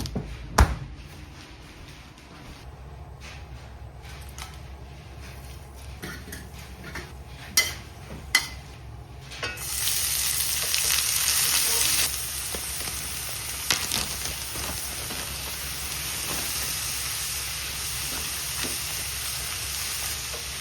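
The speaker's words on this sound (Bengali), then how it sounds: "বটবটি ভাজা করব।" Broad beans and small cut potatoes fry in a pan, giving a steady, close oil sizzle with a few sharp clinks and taps of a utensil, the sizzle swelling louder partway through as stirring continues.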